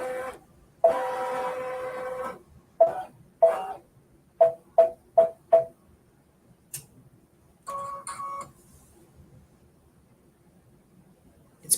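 An embroidery machine stitching on target paper runs in short whirring bursts, several quick evenly spaced pulses separated by quiet pauses, close and moderately loud, with no voices.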